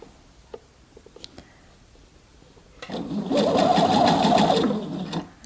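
A sewing machine stitches a teardrop opening on a dress or top in a steady, close, rapid run of about two seconds, preceded by faint handling clicks and ending with a knock.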